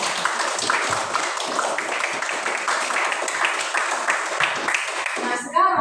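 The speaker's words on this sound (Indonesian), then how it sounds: "Tepuk tangan dulu untuk kita semua." Classroom of students applauding together, a dense, steady burst of many hands clapping that holds for several seconds before fading at the end.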